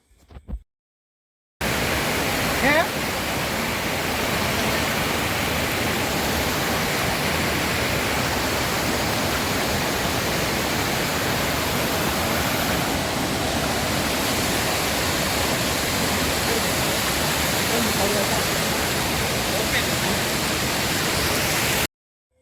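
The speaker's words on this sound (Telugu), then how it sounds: "ಫೋರ್ತ್ ಒನ್ ಜಗಮರ್ಲಾ ತುಂಬಾ ವಾಟರ್ ಫಾಲ್ಸ್" The Jagamarla waterfall near Palamaneru, a loud, continuous roar of rushing, falling water that holds steady for about twenty seconds after a brief quiet start.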